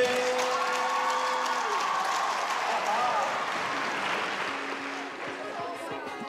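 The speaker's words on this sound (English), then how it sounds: "One more round of applause for Erica Perry" A crowd applauds a speaker at a talk, full clapping that swells and then thins out toward the end, with some cheering and voices mixed in.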